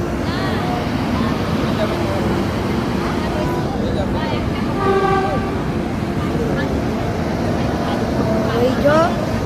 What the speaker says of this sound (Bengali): ওই দিক দিয়ে আর একটা ট্রেন আসছে, বন্দে ভারত এক্সপ্রেস।